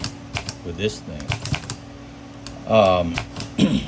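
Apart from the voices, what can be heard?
typing on a 1938 Cadet manual typewriter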